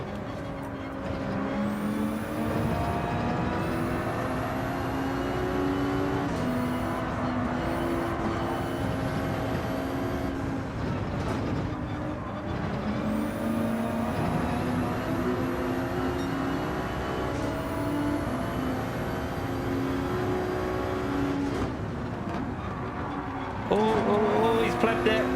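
Volkswagen Beetle race car in Gran Turismo 7 accelerates with a droning engine note that climbs through gears in repeated rising sweeps, close and steady, with other cars passing and faint talk now and then.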